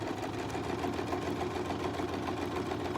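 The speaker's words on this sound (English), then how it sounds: "let's sew a few of them" A sewing machine runs steadily during free-motion quilting of concentric circles, giving a continuous close mechanical whir with a fast even needle rhythm that never stops, and no talking.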